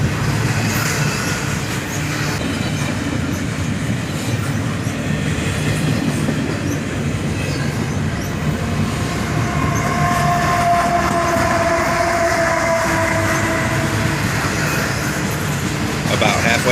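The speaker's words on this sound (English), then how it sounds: "This train seemed to stretch on and on." A long freight train rumbles steadily past close by, wheels clattering and cars groaning in a continuous loud roll with no pause.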